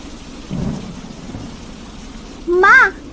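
A cartoon thunderstorm with heavy rain: a short low rumble of thunder over a faint wash of rain, followed by a brief higher, tonal cry near the end.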